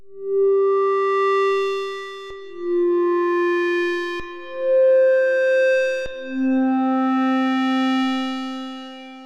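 A Digitakt pulse-width modulation synth plays a slow sequence of four sustained notes high in the register, each tone rich in harmonics and trailed by a wash of reverb, loud and clean with no talking.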